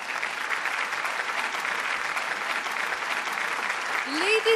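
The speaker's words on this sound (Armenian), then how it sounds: "եկեք ծափահարենք Ջուլիեն Լուսենգեին 2021 թվականի Ավրորա մրցանակի դափնեկրին" A crowd applauds a 2021 Aurora Prize laureate at a ceremony in Venice, dense sustained clapping throughout, with a brief rising tone near the end.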